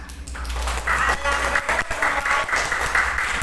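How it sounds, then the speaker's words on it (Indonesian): A class bursts into applause, a moderate patter of clapping hands from a group in a classroom that builds after a brief pause and continues steadily. "Oke, cukup bagus, tepuk tangan."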